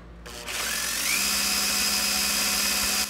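An old 1985 Volkswagen 1.6L diesel engine cranking to prime its injection system, a loud, steady mechanical whine that swells after a brief start and holds constant, with a high tonal ring on top and no voices.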